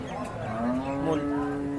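A cow moos once at the Sangola cattle market, a long, steady, fairly close low call that holds for nearly two seconds over faint background noise.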